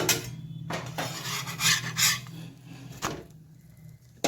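An aloo paratha is dry-roasted on a tawa with no oil, with scraping, rubbing and clinking of a utensil against the hot pan in short irregular strokes, fairly close and with no talking.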